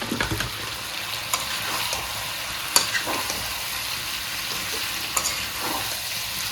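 Chicken and potatoes fry in a pan with chopped tomato added, giving a steady close sizzle with occasional sharp clicks of a utensil against the pan, no voices.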